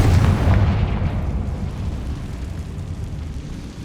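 In Hogwarts Legacy, a Confringo fire-blast spell goes off as a single loud, deep boom that rumbles and slowly fades over a few seconds, with no speech.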